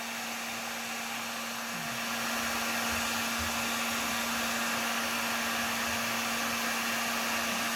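A heat gun blows hot air in a steady, loud, constant whoosh with a fixed hum underneath, running without pause, with no voices present.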